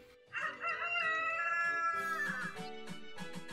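A rooster crows once, a loud close cock-a-doodle-doo lasting a few seconds.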